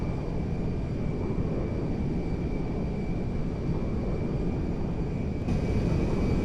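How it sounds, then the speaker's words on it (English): A jet airliner in GTA 5 passes beneath with a steady broad engine roar and rushing air, constant and fairly loud throughout, with no voices. "GTA 5's jet going underneath us there as he heads off to the east"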